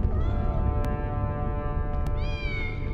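A cat meows in the Harry Potter and the Sorcerer's Stone video game, one long drawn-out harmonic meow followed by a second rising meow over a steady game background.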